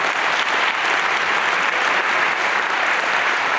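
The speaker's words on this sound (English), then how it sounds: "let's give a round of applause to the volunteers for the Miss America organization" A crowd at the Miss Wisconsin pageant gives a round of applause for the Miss America organization's volunteers, a loud, thick, unbroken roar of clapping from many hands that holds steady throughout.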